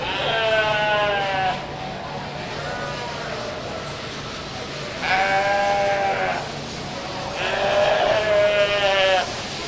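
Sheep at a county fair livestock show bleat loudly in three separate long calls spaced several seconds apart, close by, over a steady hum of barn and crowd noise.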